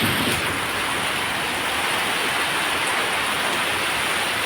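Heavy rain pours down steadily in a windy downpour, a dense, even hiss that stays loud and unbroken throughout with no voices; no distinct thunderclap stands out.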